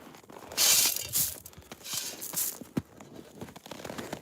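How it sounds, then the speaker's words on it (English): Quick, uneven hoof clatters and scuffs on a hard surface, mixed with bursts of rustling as several goats hurry in close by for a treat. "And the goats come flying in."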